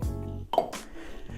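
Cocktail glass and metal shaker set down and handled on a bar counter, producing a few close, brief clinks and knocks with a sharper glassy chime in the middle, no talking.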